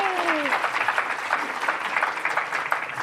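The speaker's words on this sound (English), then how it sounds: "Yes, I think a round of applause is warranted." Audience applause for a panel at a public forum on affordable housing and economic mobility in NYC, a dense, steady wash of many clapping hands lasting about three seconds, with a brief voice tone fading at the start.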